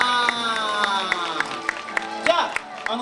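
Audience at a Capcom fan club birthday celebration for Rockman claps along, scattered sharp hand claps and light crowd noise over a steady musical backing, with voices in the mix.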